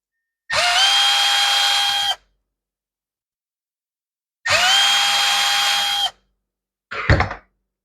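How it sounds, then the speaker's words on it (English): Power screwdriver driving out screws from the bottom plate of an Echo SRM225 trimmer carburetor: two sustained whirring bursts of about two seconds each, then a short third burst, loud and close with silence between. "we'll pull the bottom plate, and we'll pull the primer in that plate"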